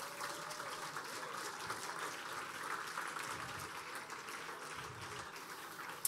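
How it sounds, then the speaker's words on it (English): Audience applause for the winner of the Mercedes-AMG Motorsport eRacing Competition 2017 finale, a steady, dense wash of clapping that holds at an even level throughout, with no voices on top. "But now you give a big applause for Moritz Lerner"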